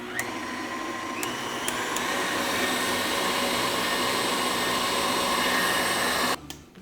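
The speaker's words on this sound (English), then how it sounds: "I'm going to turn my mixer back on high" Stand mixer whipping meringue at high speed for pavlova: a steady, loud whirring motor drone held for about six seconds, then cut off abruptly near the end, with no talking.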